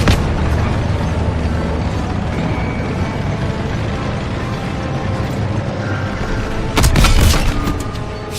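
Gunfire and explosions in Call of Duty WWII, a dense continuous roar of battle with booming blasts and a sharp burst of shots near the end.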